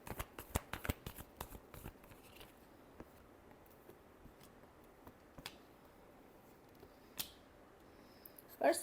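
Tarot cards are shuffled in a quick burst of crisp riffling flicks at the start, followed by scattered softer card taps and rustles in a quiet room.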